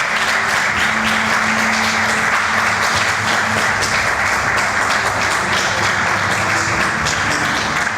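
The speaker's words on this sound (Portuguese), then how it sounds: "Uma salva de palmas para o cabeça de lista da nossa Europa, Paulo Rosado." Audience applause at a political presentation in Matosinhos, Portugal, for a list leader; continuous, dense clapping throughout at steady loudness, with no voices over it.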